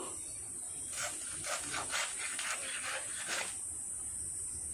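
A knife working through a hilsa fish, starting at the head: a run of rasping, rubbing cuts lasting a few seconds, close but fairly quiet over a steady background hiss.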